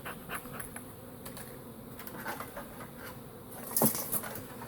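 Honeybees buzzing around an opened hive during queen rearing, as a queenless host box is repositioned on an excluder. Faint, steady close hum with light knocks and handling noises.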